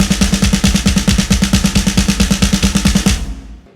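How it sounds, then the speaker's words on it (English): A drum kit plays fast alternating sixteenth-note single strokes on the hands over alternating eighth notes on the feet, heel-toe style; loud, close, evenly pulsing rolls for about three seconds, then ringing out. "we're gonna play alternating 16th note single strokes with our hands while our feet play alternating 8th"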